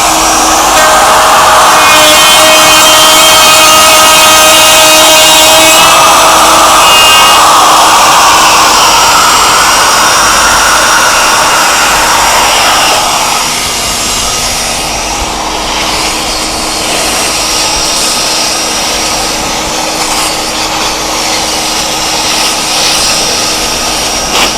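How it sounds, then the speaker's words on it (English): Plunge router cutting a juice groove into a wooden cutting board, a loud continuous high whine with a steady roar that shifts pitch midway as the bit moves through the wood, up close with no speech. "This is where the plunge router is nice, is now I can get the hose out of the way and I can finish this."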